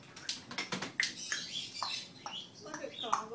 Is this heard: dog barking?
no